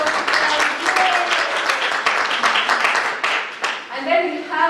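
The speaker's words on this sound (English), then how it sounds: "Let's give a round of applause." Applause from an audience at a Franco-Anglo exchange program event, a dense wash of clapping filling the room with voices talking over it throughout, tapering near the end as a speaker resumes.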